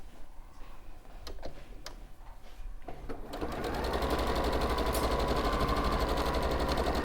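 A sewing machine stitching around fabric for a floral turtle cushion, starting with a few clicks and handling noises before the motor whirs up into a steady, close, rapid running hum that continues to the end.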